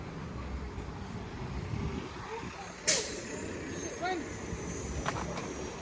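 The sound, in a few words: city bus with air brakes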